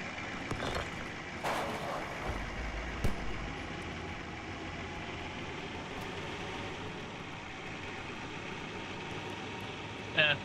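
Helicopter in the shooter game Battlebit Remastered gives a steady, fairly faint rotor and engine drone that runs the whole time beneath occasional thuds and impacts.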